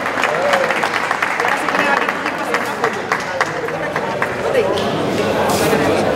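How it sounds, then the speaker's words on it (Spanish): An audience applauds a third-place winner in the mixed-fruit category at a fruit and vegetable contest award, steady crowd clapping mixed with murmuring voices and background chatter throughout. "Un aplauso."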